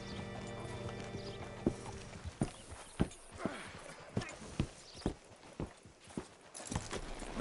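Horse hooves clip-clop at a slow walk in Red Dead Redemption 2, a steady run of sharp, fairly close knocks over an ambient game background, with a brief whinny.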